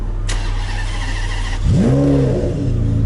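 A Ferrari 599 V12 rev rises loudly at close range about halfway through, a sharp climbing engine note that swells and then settles back toward a steady idle.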